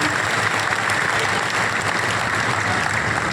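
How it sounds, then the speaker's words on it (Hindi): Dense, loud applause from a large audience at a speech event on the Waqf amendment bill, a steady unbroken wash of clapping throughout. "विजयराव जी के लिए और बट्टेराव जी के लिए एक बार जोरदार ताली आपकी बजनी चाहिए"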